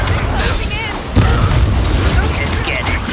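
Confringo blasting-spell explosions in Hogwarts Legacy, a sharp boom a little past one second among crackling magical effects and shouted spell voices.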